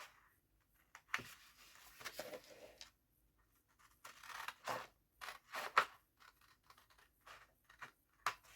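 Scissors snip through paper while trimming off unwanted scraps for a small candy box, a series of quiet, close, uneven cuts separated by brief pauses.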